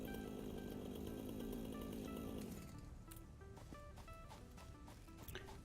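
A biofuel-powered chainsaw in the game Satisfactory runs with a loud, buzzing rasp for a few seconds, then cuts out, leaving quieter scattered game sounds and tones.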